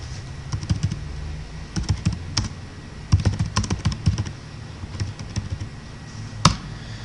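Close, quiet keyboard typing sounds as irregular runs of light key clicks and taps over several seconds, with brief pauses between bursts and no voice.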